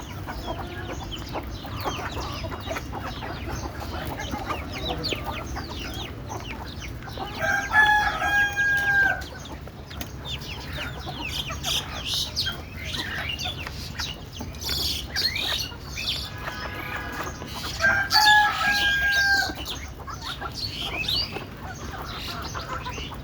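A desi (native breed) rooster crows twice, some distance apart, over a constant murmur of clucking from desi chickens and outdoor background noise.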